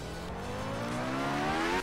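Rally car engine in the Art of Rally video game, a short steady drone with pitch rising as the car accelerates, smooth and continuous with no voice over it.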